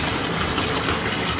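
White vinegar poured into bath water in a bathtub, heard as a continuous loud gush of liquid filling the tub, close and steady with no talk.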